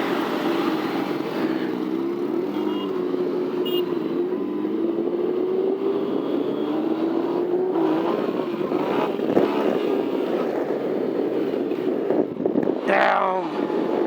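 A rare motorcycle's engine revs during a ride in Pune, its drone rising and falling under steady rushing wind, with a sharper rev surge near the end.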